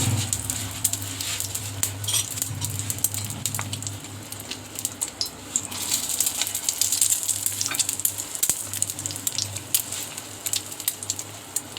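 Beef shami kebabs dipped in beaten egg fry in hot oil with a steady, close sizzle and crackle, joined by occasional stirring and light utensil taps, with no talking.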